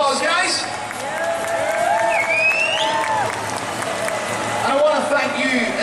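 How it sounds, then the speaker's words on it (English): Crowd applauding and cheering at an outdoor community fair in a town square, steady broadband clapping with voices and whistles mixed in throughout. "I think they all deserve a massive round of applause, guys"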